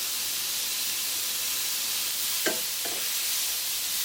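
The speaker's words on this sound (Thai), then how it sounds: "ตอนนี้ผัดแครอทเสร็จแล้วครับ" Carrots stir-fried in a pan with a little salt, crushed garlic and sesame oil, giving a continuous steady sizzle with one or two faint scrapes, close and with no talking.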